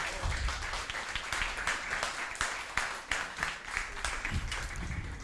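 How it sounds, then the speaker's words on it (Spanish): Applause from an audience at a spoken-word event: many hands clapping in a sustained, moderately loud patter that continues steadily throughout. "También el aplauso."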